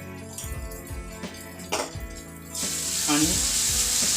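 Turmeric-spiced egg bhurji sizzles in a hot pan while a spoon stirs and scrapes it, giving a steady frying hiss that swells louder in the second half with occasional metal clinks.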